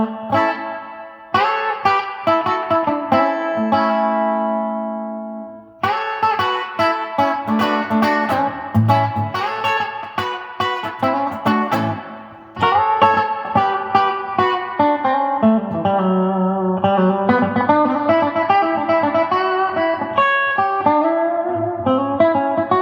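An Epiphone Dot electric guitar played through a Roland Cube 80X amp with heavy reverb, strummed chords and single-note runs ringing out loud and washy, with no talking.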